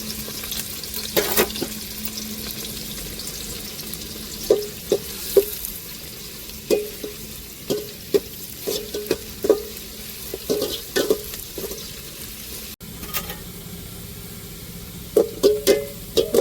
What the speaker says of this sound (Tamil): வெங்காயம் நல்லா ப்ரௌன் கலருக்கு வரையும் நம்ம நல்லா வதக்கி விட்டுக்கிருவோம்